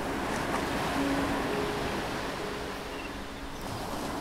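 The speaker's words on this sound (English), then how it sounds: "you can hear the soft roar of the waves." Ocean waves on a tropical island beach make a soft, steady roar, a continuous wash of surf with no voices over it.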